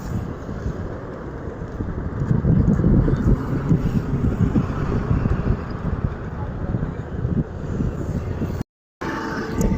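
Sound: strong wind on Karnaphuli river bridge

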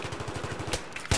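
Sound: gunfire in the video game Battlefield 3

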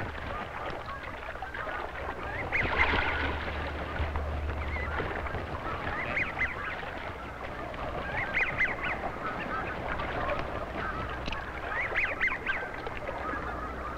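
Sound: goose honking

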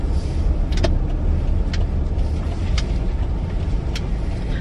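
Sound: car speeding past in a parking lot

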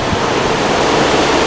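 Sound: Octominer mining rig and GPU fans running at full speed

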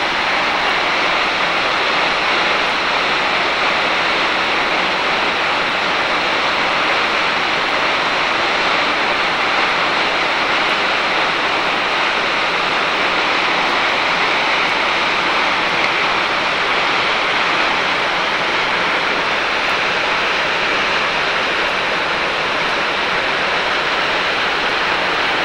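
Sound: water rushing out with great force

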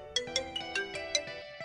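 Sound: mobile phone ringtone ringing

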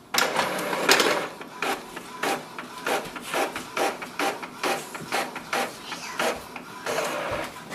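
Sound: Epson WorkForce WF-2930 printer printing a page

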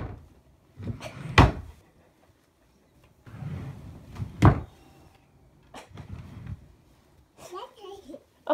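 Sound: dresser drawer opening and closing

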